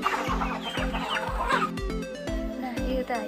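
Chickens cluck repeatedly and close by while being fed a fermented bran feed mixed with EM4, molasses and water, with rhythmic low pulses running underneath.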